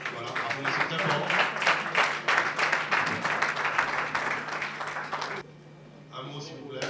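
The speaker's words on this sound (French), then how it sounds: "Voilà, applaudissez très fort." Audience at an award ceremony bursting into loud, sustained applause, many hands clapping together for about five seconds before it stops suddenly and a voice begins to speak.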